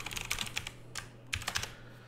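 Someone types a question on a computer keyboard, giving quick, fairly quiet key clicks in an uneven rhythm, with a short pause midway and then a few more taps.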